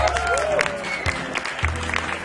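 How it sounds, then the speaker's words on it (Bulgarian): Audience applause at a business award ceremony as the Business Woman of the Year 2014 honor is presented, a steady wash of clapping over a low hum, with some faint background sound mixed in. "Моля вашите искрени и силни аплодисменти"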